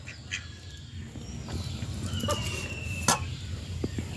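Ducks quacking and squabbling close by as they crowd eagerly toward fish, with short bursts of calls and splashy movement over a steady background.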